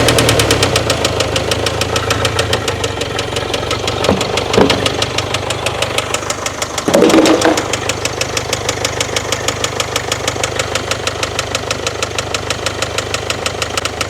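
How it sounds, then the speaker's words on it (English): A car engine idles with a steady, rapid knocking tick, then briefly revs up before settling back to a rough, knocking idle; loud and close, with no talk over it. "Rev it up a little bit."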